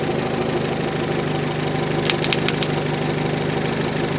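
A car engine idles with a steady, close low rumble and even knocking pulse, with a few brief clicks partway through.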